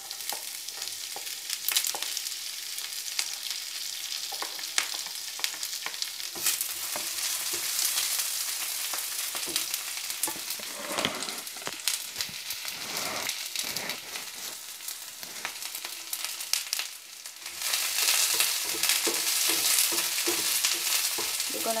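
Onion and garlic sautéing in hot cooking oil for Indomie instant noodles, a steady dense sizzle with intermittent stirring scrapes, loud and close throughout, with no talking.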